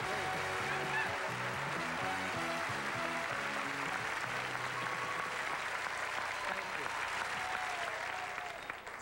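Studio audience applause on the 1976 Family Feud game show, loud and sustained at first with a musical theme playing underneath, then thinning out toward the end.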